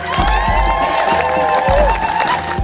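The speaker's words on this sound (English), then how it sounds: "Can we get a round of applause to the Squaxin Island tribe?" Festival crowd cheering and applauding for the Squaxin Island tribe, with whoops, shouts and a steady roar of clapping, loud and close, under faint music-like tones and a few thumps.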